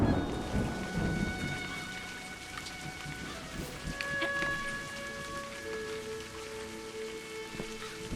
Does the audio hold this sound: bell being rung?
no